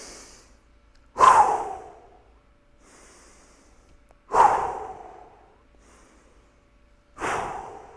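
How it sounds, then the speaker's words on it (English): Three forceful exhales during a workout warm-up, each a sharp, close rush of breath through the nose that fades out, spaced about three seconds apart with quiet inhales between them. "Forceful exhale out."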